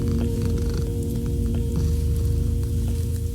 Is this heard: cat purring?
yes